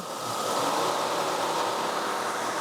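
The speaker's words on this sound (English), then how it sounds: "simulate the electric fans coming on first low and then high" A car's electric cooling fans run on high with the engine idling, giving a steady, loud broadband whoosh that holds constant throughout.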